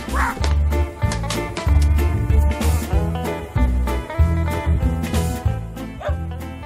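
A puppy gives shrill, bird-like barks in a quick run of about a dozen close, loud yaps, each squeaky and quacking in tone.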